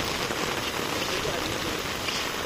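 Heavy rain pouring across the IIT Roorkee campus in India, a steady, dense hiss of downpour with no breaks, close and loud throughout.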